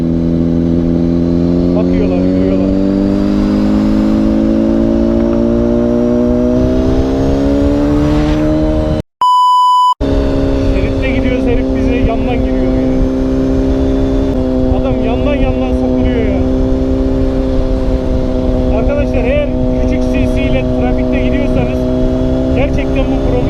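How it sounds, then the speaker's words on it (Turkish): A Honda CBR1000RR 1000cc sport motorcycle roars loudly through its exhaust while riding on the road, a steady close engine drone that shifts pitch as it accelerates, with a brief cut partway through. "Egzoz varım varım bağırıyor"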